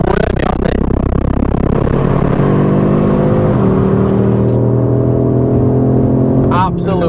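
A stock Audi RS3 8Y exhaust, loud and close, its engine note climbing under acceleration before settling into a steady, droning tone.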